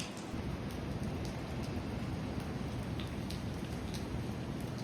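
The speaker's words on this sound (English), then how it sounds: "it's absolutely chucking it down with rain" Heavy rain pours down steadily in the early morning, a dense, even hiss of drops drumming on surfaces with scattered sharper ticks, continuous and fairly close with no voices.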